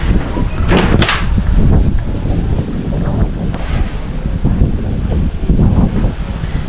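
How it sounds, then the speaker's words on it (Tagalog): Strong gusting wind ahead of Typhoon Pepito buffets the microphone in a loud, continuous roar with rumbling low buffets and brief rattling knocks, no speech. "Lakas ng hangin."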